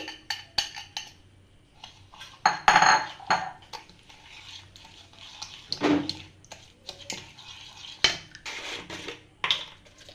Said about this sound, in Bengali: চিনি সুজি আর দু চামচ খোয়া ক্ষীর দিয়ে রেখেছিলাম সেটাকে এবার ভালোভাবে মিক্স করে নিচ্ছি